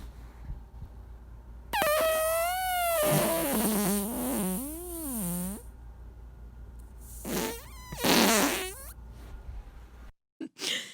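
A recorded fart plays back as a long, loud, wavering tonal blast that sputters and rises and falls in pitch, then breaks off and returns in a second shorter burst before ending.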